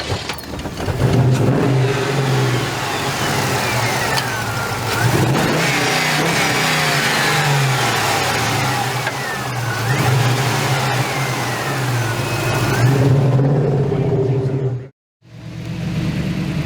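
A classic car with a five-speed overdrive gearbox, shown at a car show, revs its engine repeatedly, rising and falling in loud, close bursts with a drop near the end. Voices murmur faintly in the background.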